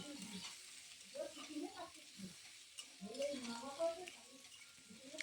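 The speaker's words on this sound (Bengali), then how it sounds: "তেলের মধ্যে একটু ভাজা হওয়ার জন্য অপেক্ষা করব" Onion, potatoes and peas fry in oil in a pan, a steady close sizzle with stirring scrapes and clatter across the clip, with voice-like bursts over it.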